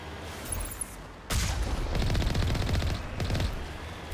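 Gunfire in the video game Mass Effect: after a brief lull, sustained rapid-fire bursts break out, loud and dense, with shots rattling in quick succession amid a noisy battle din.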